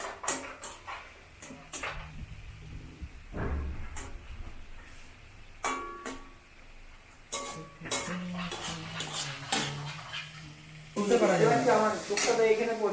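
Carrot halwa being cooked in a pan, with metal utensils clanking and scraping in repeated bursts alongside stirring, while voices talk over the kitchen noise.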